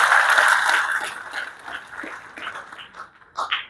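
Audience applause at a national leadership meeting, a burst of clapping that starts loud and fades within a couple of seconds into scattered claps and murmurs, with a voice briefly audible at the end.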